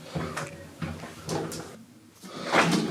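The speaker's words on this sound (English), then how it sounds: "Doors closing." Lift doors in a high-rise block of flats slide shut with a few soft rumbling scrapes and thumps, close by and moderately loud, ending in a brighter clunk as they meet.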